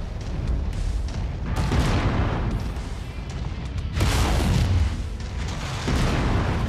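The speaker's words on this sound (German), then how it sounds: "Und ein Schuss von hinten." In the mech combat game MechWarrior 5: Mercenaries, weapon fire and impacts make heavy booming blasts, several in a row, layered over constant rumbling game noise.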